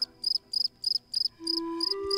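A cricket chirps in regular, evenly spaced bursts of rapid pulses, clear and close, while a steady sustained tone rises underneath during the second half.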